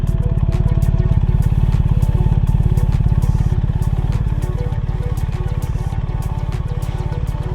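A BMW R1300GS motorcycle engine idles close by, a steady low rhythmic thrum with light mechanical clatter that holds evenly throughout.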